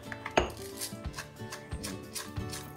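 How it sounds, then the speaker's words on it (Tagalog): Black peppercorns being crushed, with a series of sharp close knocks and grinding thuds in an uneven rhythm, one loud strike near the start, no voices. "Magdurog muna tayo ng paminta."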